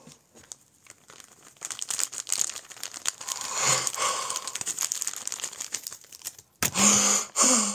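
A plastic zipper package from Temu is unzipped and opened, giving a long run of close crinkling and crumpling, with a louder burst of rustling near the end.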